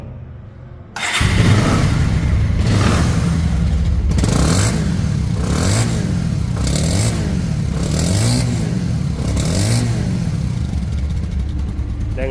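A 2022 Bajaj Avenger ABS motorcycle starts and runs close by, a loud steady engine idle broken by several rhythmic throttle revs that rise and fall, with no talk over it.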